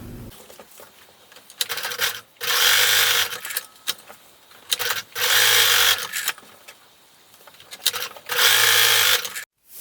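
A domestic sewing machine top stitching along the edge of a fabric bow tie, running in three loud steady bursts of a few seconds each, separated by short pauses and small handling clicks.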